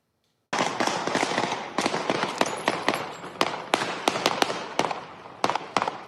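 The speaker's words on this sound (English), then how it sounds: "A barrage of bullets" A barrage of gunshots at a street shooting rings out as a sudden run of sharp, echoing cracks, fired irregularly and in quick clusters for several seconds, loud and without talk.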